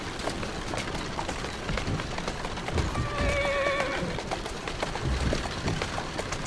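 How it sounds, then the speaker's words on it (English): A horse in Assassin's Creed Syndicate whinnies once in the middle over a noisy, clattering background with hooflike clip-clop sounds throughout. "Who's a good horse?"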